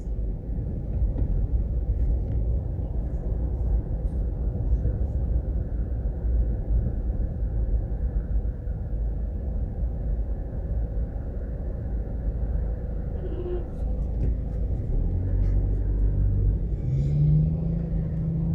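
A car drives through central Kingston and makes a U-turn, with a continuous low engine rumble and road noise from inside the vehicle and a brief rising engine tone near the end.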